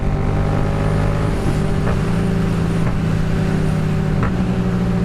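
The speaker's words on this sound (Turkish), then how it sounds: "motorun sesinde bir değişiklik fark ettiyseniz şu an üstünde Tiger var" A Triumph Tiger motorcycle engine roars with a steady, throaty drone close by, mixed with a constant rush of wind noise and no voices.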